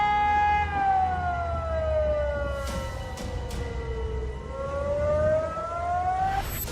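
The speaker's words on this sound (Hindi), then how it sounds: "पानी बढ़ने पर हर तरफ सायरन की डरावनी आवाज गूंज रही है।" Civil defense flood warning sirens in a flooded town in Tuapse district, Russia, with one long wail sliding down then rising again, sounding from a distance over a low rumble.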